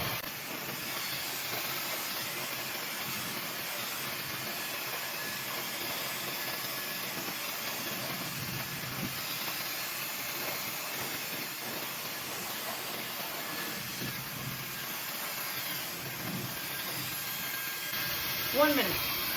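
A Tideway hair dryer brush blower runs with a steady, even whooshing hiss throughout, the airflow holding constant at close range while a voice talks faintly underneath.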